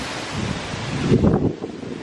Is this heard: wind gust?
yes